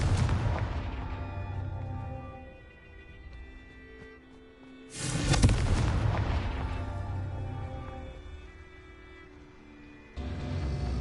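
Confringo blast spells fire in Hogwarts Legacy: a decaying explosive burst at the start, a second loud blast around the middle with a long fading tail, then a fresh burst at the end, no voices.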